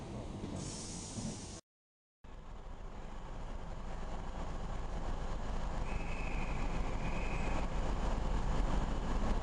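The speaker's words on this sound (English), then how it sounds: "a train approaching, courtesy of Northern Rail, from the direction of Liverpool" A Northern Rail train from the Liverpool direction approaches Victoria Station, a steady hiss and rumble building gradually in loudness, with a brief dropout early on and a faint high whine later.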